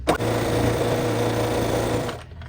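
A sewing machine runs fast and close while stitching along the folded edge of a fabric key fob, a continuous, even mechanical whir lasting about two seconds before it stops abruptly, with no talking.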